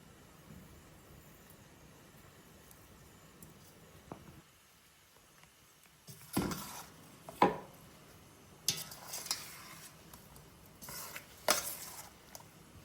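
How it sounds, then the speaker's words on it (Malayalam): Roasted, ground mustard being stirred by hand into cut mango coated with spice paste for mango pickle; soft, scattered scrapes and clinks from the bowl, growing busier in the second half, with no talk. "അരപ്പ് ചേർത്ത് വെച്ചിരിക്കുന്ന മാങ്ങയിലേക്ക് ചേർത്ത് കൊടുക്കുക"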